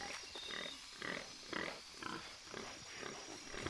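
Grunting calls of a pig-like wild animal in the jungle of the video game Shadow of the Tomb Raider, a series of short snorting bursts repeating about every half second over a dense forest ambience.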